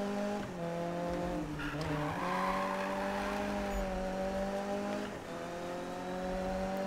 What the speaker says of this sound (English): Listen to the engine and the supercharger.